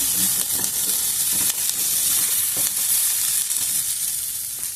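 Potatoes frying in a pan, a steady dense sizzle and hiss with occasional stirring scrapes, close and continuous with no talking.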